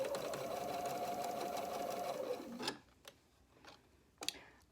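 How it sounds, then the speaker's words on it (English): A sewing machine stitches the outer seam of an elastic-waistband garment, running steadily for under three seconds before stopping, followed by a few faint clicks and handling sounds. "I am sewing the outer seam right now"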